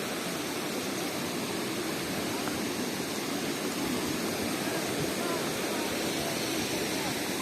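A broad, constant rush of falling water from a waterfall in Munnar fills the air, steady and enveloping, with faint voices of bathers mixed into the roar.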